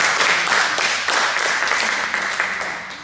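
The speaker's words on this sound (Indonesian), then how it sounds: "Tepuk tangan dulu buat Tuhan." Church congregation applauding in a service, a steady wash of many hands clapping together, fairly loud and close, tapering slightly toward the end.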